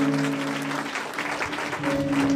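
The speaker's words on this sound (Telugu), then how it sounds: "అందరూ బిగ్గరగా చప్పట్లు కొడదాం గట్టిగా" A church congregation at a church opening in Chinagadavilli claps loudly and steadily for over two seconds, a dense continuous wash of applause with a low sustained tone beneath it.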